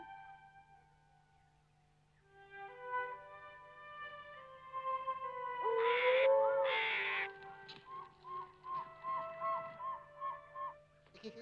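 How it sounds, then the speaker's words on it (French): In a cartoon forest at night, an owl calls amid soft tonal background music, with a louder swelling cry midway followed by a series of short rhythmic hoots, fairly faint overall. "Mais non, ce n'est qu'un hibou"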